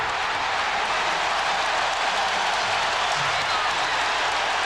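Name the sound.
basketball arena crowd cheering after a play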